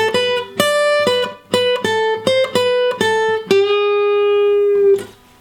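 An electric guitar plays a closing phrase as a run of clear, close picked notes with short gaps, ending on one long sustained note that rings out and fades, with no talking.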